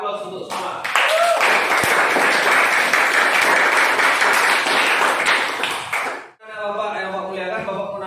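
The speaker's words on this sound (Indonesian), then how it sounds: "Kita aplaus untuk semua." A vocational high school classroom breaks into a burst of applause, dense and close, lasting several seconds before it stops abruptly. A voice speaks just before it, and speech follows after.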